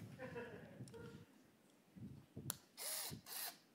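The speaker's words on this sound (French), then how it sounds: "une chirurgie qui va nous demander de lui percer le crâne" A drill whirs in short bursts, pitched as a skull-boring surgery effect, after a stretch of talking. The whine comes in two sustained runs near the end.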